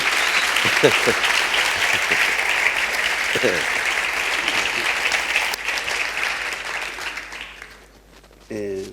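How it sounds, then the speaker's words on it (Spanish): Audience at a poetry event applauding guest performers, a loud sustained round of clapping that tapers off, with a few brief voices near the start and a voice entering at the end. "os pido por favor un aplauso para Juan Marqués y Santiago Auserón."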